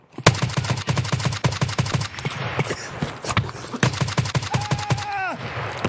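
Rapid bursts of gunfire crack in Escape from Tarkov, a steady rhythm of close, loud shots running through most of the stretch, with a voice briefly speaking near the end.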